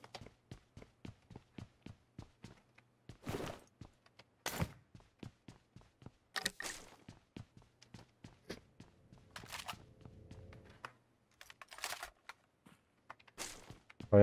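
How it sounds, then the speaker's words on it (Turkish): Footsteps in the game PUBG Mobile tap out in quick, regular, fairly faint steps, broken by a few louder thumps and short bursts of other game sound. "Ayak sesi."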